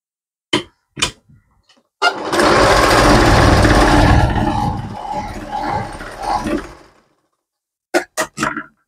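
A sewing machine runs a burst of stitches through cloth for about five seconds, close and loud, framed by short clicks and handling knocks before and after.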